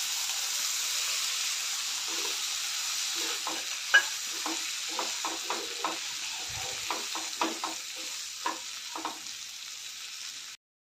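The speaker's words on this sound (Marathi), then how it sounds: "आता दलिया पण यामध्येच घालते, म्हणजे ते पण या भाज्यांबरोबर चांगलं भाजलं जाईल." Broken wheat (dalia) roasts with vegetables in a pan, giving a continuous hissing sizzle with a run of crisp, irregular spatula clicks and scrapes toward the middle and end, then stopping abruptly.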